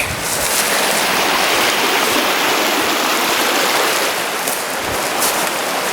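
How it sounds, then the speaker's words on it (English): A river in the Kinross hills rushes and burbles loudly and steadily at close range, a dense, unbroken wash of flowing water with no voices over it. "It does mean crossing a river again."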